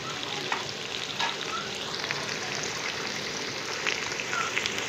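Fries fry in a little oil with a steady, fine crackling sizzle and occasional louder pops. The sound is close and continuous, with no talking.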